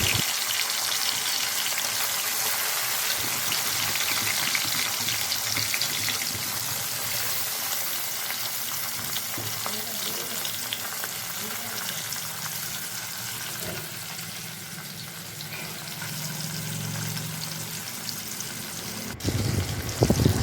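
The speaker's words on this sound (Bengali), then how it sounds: "কত সুন্দর করে ভাজা হচ্ছে মাছগুলো।" Small puti fish frying in a karahi, a faint, steady sizzle and crackle close by with no talking, and a brief clatter right at the end.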